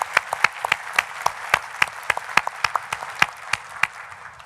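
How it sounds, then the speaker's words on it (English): A small audience applauds at a workplace ergonomics awards ceremony, sparse individual claps ringing out clearly over a soft bed of steady clapping, then tapering off. "Round of applause for that category."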